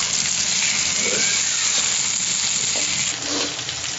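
Dal cooking in hot oil gives a steady, close sizzle and bubbling hiss that runs through the whole stretch, with faint stirring noises now and then.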